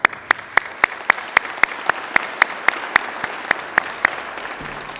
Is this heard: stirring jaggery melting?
no